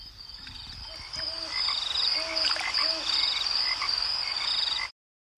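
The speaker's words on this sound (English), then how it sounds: "They could hear the frogs croaking and the owls hooting." Frogs croaking in a night setting, repeated rhythmic croaks over a constant high insect-like trill, moderately loud and continuous before cutting off abruptly.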